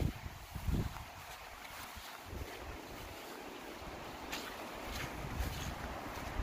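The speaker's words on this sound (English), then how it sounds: "This side of the field is very, very windy." Wind buffets an outdoor microphone in a windy field, a rumbling, gusty roar with heavy low thumps early on that settles into a constant breathy rush.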